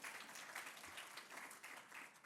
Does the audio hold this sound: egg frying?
no